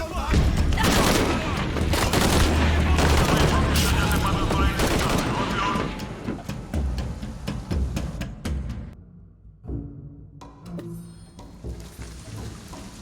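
Gunfire in the video game Shadow of the Tomb Raider: dense, loud volleys of shots with rapid bursts and booms for several seconds, then thinning to scattered shots and a brief lull amid game noise.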